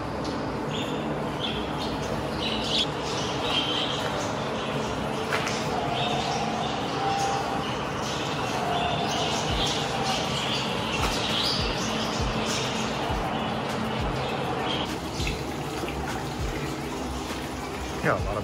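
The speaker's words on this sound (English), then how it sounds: "Yeah, a lot of birds here." Many birds call and chirp continuously at a roadside stop, a dense mix of high twittering overlapping at moderate distance, with people talking quietly now and then beneath it.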